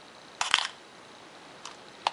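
A Minolta XD-11 film camera's aperture blades snap shut, a quick sharp metallic click followed by two fainter clicks, close and isolated in a quiet room.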